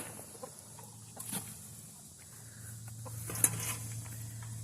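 Backyard chickens and roosters clucking softly while pecking at butternut squash scraps, a few scattered calls and faint pattering over a low steady hum, with quiet pauses between sounds.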